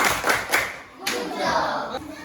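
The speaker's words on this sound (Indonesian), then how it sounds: "kita berikan tepuk ucap untuk kelompok 2" Classroom applause for a student group during a teacher performance exam, a short burst of hand clapping mixed with children's voices, fairly close and moderately loud.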